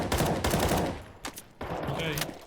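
A FAMAS rifle in a video game fires three-round bursts, clusters of sharp, loud cracks separated by short pauses, with game sound and a voice mixed underneath.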